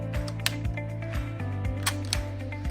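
A Nishika N8000 four-lens film camera fires a blank shutter, making crisp close mechanical clicks over a steady low hum.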